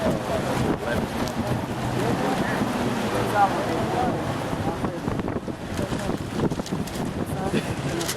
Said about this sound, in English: Right when everybody came, that's when the wind started blowing.